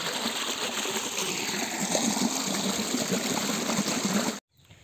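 Canal water flows into a farm field in a village, a steady trickling, gurgling stream close by that runs continuously before cutting off abruptly near the end.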